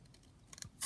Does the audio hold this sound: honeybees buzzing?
no